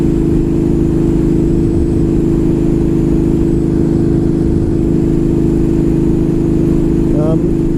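Motorcycle engine droning steadily while cruising at about 95 km/h, a constant low hum with wind rush and no change in revs, loud and close.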